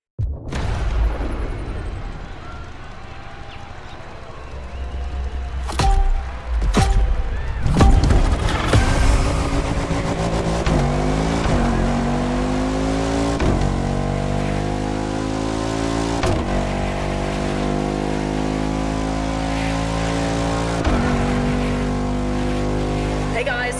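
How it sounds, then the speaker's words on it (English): The Bugatti La Voiture Noire hypercar in The Crew Motorfest accelerates repeatedly, its engine rising through gear changes with loud sweeping pitch climbs, after a few sharp bangs early on; a voice talks over part of it. "The Bugatti La Voiture Noire."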